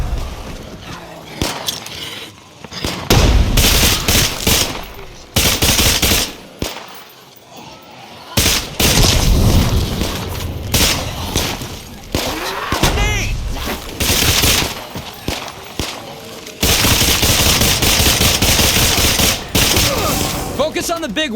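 Video game gunfire from State of Decay 2, loud bursts of rapid automatic fire and single shots in irregular volleys with brief lulls, some shouted voices mixed in.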